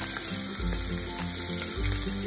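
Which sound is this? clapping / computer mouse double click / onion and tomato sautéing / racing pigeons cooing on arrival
onion and tomato sautéing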